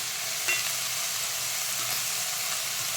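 Whole spices and ginger-garlic paste sizzling in a hot pan for veg pulao, a steady, soft hiss of frying oil with a faint scrape of stirring, no voices.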